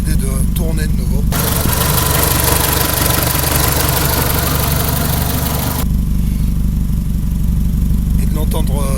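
A Renault Mégane engine runs loudly up close with a steady idle and a sustained rev in the middle, while someone speaks over it at the start and end.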